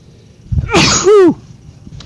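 A single sharp sneeze during a lecture, close and loud, with a quick intake of breath and then an explosive burst, with no talking around it.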